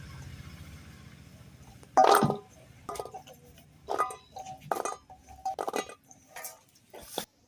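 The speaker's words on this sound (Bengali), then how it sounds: "কেওড়াগুলো ধোয়া হয়ে গেছে, এবার আমি পাত্রে ধুয়ে নেব" Keora fruit being washed in a bowl: a sharp clink of the bowl, then a few short rattling splashes and knocks as the fruit is handled, close by and separated by brief pauses.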